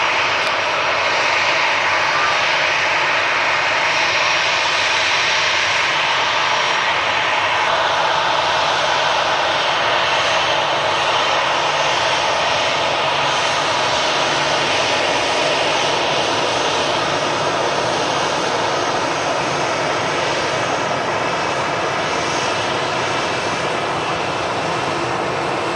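Continuous loud roar of jet airliners taxiing nearby at Manchester Airport, a Ryanair and an Iberia jet, a steady broadband engine rumble and whine that holds evenly throughout with no talking.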